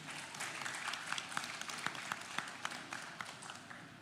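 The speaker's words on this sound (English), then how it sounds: "please give big applause to everyone" An audience at the ASEAN Conference & Exhibition on Creative Culture Industries 2024 breaks into a sustained round of applause, a dense wash of clapping with a few sharp individual claps standing out.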